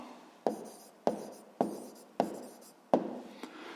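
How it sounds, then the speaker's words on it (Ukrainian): Pen strokes writing an answer in a notebook during a sixth-grade math exercise: five or six sharp taps at an even pace, each fading into a short scratch, close and clear. "Ну що ж, е, записуємо відповідь."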